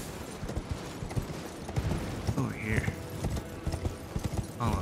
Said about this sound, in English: There's a guy with a horse too